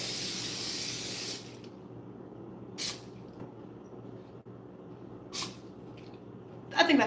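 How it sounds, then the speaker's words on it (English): A loud cooking spray hisses onto a baking pan for over a second, then two short spritzes follow after quiet pauses, and a final burst comes at the end. "Okay, let's go ahead and spray this."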